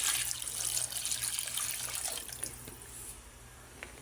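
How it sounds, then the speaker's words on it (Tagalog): Broth is poured into a pot for chicken tinola, a steady splashing stream of liquid that tapers off near the end, moderately quiet and close. "Lagyan ko na po ng sabaw."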